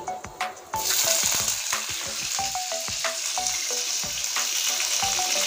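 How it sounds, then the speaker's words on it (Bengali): Chopped large onion hits hot oil with a loud, steady sizzle after a few clinks, the frying hiss continuing close and bright throughout with occasional spatula taps, garlic already browned in the pan. "পেঁয়াজটা এবার দিয়ে দিচ্ছি তেলে।"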